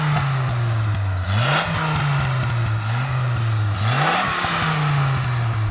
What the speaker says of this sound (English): So I'm going to rev up my 8-litre V10.